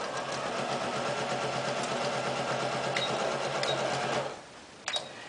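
Sewing machine running steadily at close range as it stitches a 5/8-inch underarm seam on a garment, a continuous even mechanical whir that stops near the end, followed by a brief clack.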